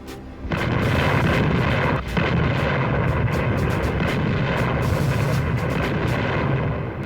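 British cruiser naval gunfire at night in fog, a dense, continuous roar of heavy guns and rumbling booms, loud and sustained with a brief dip near two seconds.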